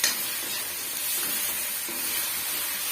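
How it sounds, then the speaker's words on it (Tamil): Chicken thokku sizzling in a pan as chili powder is stirred in, a steady hissing fry with soft scraping stir sounds, moderately quiet and close, no talking. "சேர்த்துட்டு ஒரு முறை நல்லா இது போல மிக்ஸ் பண்ணி விட்டுக்கோங்க."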